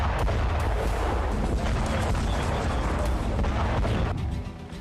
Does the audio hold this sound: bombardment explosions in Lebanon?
yes